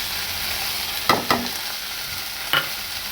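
Cluster bean fry with dried coconut powder sizzles steadily in a pan, and a spatula scrapes through it in three short strokes, two close together and then one more a moment later.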